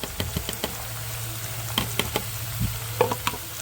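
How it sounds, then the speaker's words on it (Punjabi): Onions tipped into mixed vegetables frying in a pan, soft sizzling under a run of close spoon scrapes and knocks against the pan, irregular taps with no talk. "ਹੁਣ ਆਪਾਂ ਇਹਦੇ ਵਿੱਚ ਆ ਪਾ ਦਿੰਨੇ ਪਿਆਜ਼ ਜਿਹੜੇ ਆਪਾਂ ਨੇ ਰੱਖੇ"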